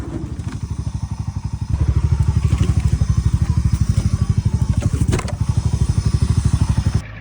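A Breeze ATV engine idling close by with a rapid, even chugging beat that steps up louder partway through, then cuts off just before the end.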